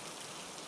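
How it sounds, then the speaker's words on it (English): Steady rain patters against windows at night, a soft continuous wash of drops with no voices, quiet and even throughout. "That night, the rain didn't stop."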